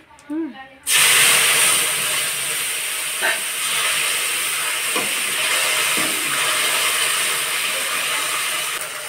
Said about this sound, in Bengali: এইবার মশলাটা দেব, মশলাটা কষিয়ে নিয়ে